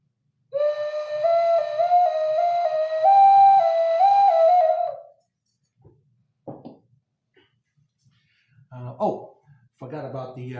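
Clay ocarina, a Maya instrument with mouthpiece, exit hole and finger holes, plays a clear, steady wind tone stepping between pitches for about four seconds, followed by scattered faint knocks and brief voices.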